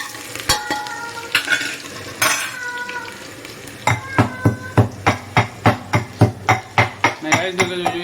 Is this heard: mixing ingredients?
yes